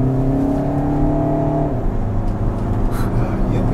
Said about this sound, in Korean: 확실히 가속할 때마다 아 디젤 차에 타 있구나 라는 기억을 하게 하네요